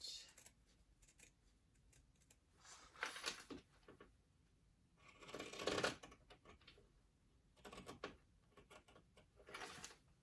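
Scissors cut fabric into a 1.5 inch piece for a sewing pattern, with several short bursts of snipping and rustling separated by quiet pauses, faint and close.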